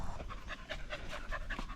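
A dog pants rapidly and steadily up close, quick rhythmic breaths with no talking.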